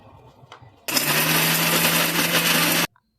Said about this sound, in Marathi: आता ते आपण मिक्सरला बारीक करून घेऊया.